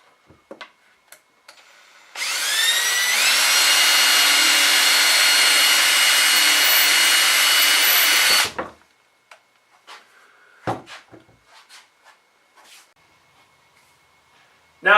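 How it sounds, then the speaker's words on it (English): A power drill bores a hole in wood in a home workshop, running steadily for about six seconds before stopping, followed by light knocks and handling sounds. "That's where we'll drill the hole."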